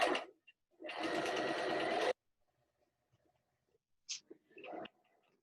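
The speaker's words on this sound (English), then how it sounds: "So the machine may be a little bit noisy for a minute." A sewing machine runs fast while stitching a cotton pillowcase with french seams, giving one sustained, loud mechanical whir of about a second, then a few quieter bumps and handling noises close by.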